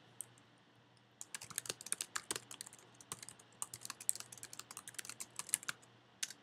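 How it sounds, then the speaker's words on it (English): Quick, uneven clicking of a computer keyboard, close and fairly quiet, as someone types HTML tags with short pauses between bursts of keystrokes. "And we type a paragraph tag."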